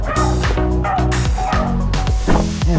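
A dog barking repeatedly and loudly close by, a rapid series of sharp harmonic barks with brief whimpering yips between them.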